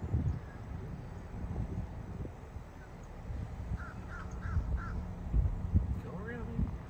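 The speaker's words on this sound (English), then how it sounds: "There's definitely some Florida birds up here" Florida birds calling near an alligator-viewing area: a short run of cawing, crow-like calls in the middle distance and a brief higher call, over steady outdoor rumble and some low background voices.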